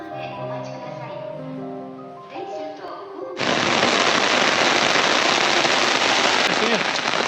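Heavy rain pours down on a street in the Ferencváros district of Bucharest, starting abruptly after a few seconds of quieter sound and then roaring on as a loud, dense, steady wash of drops.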